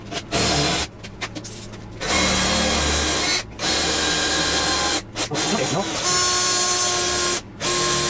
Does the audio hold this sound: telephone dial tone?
no